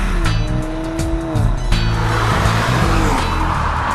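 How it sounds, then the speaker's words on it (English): A 2014 Mercedes-Benz CLA exhaust note under acceleration, loud close engine drone rising in pitch through the revs with a shift and continued pull, heard alone without talk. "Even the exhaust note is pretty engaging in this car."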